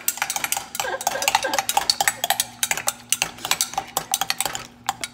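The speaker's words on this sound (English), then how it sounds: "the only thing I'm going to do is going to go ahead and stir it up" Egg mix stirred briskly in a bowl, a fast run of clinking metal-on-dish taps and scrapes, close and fairly loud, with no talking.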